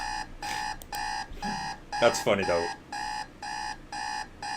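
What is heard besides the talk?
alarm clock buzzing in a video game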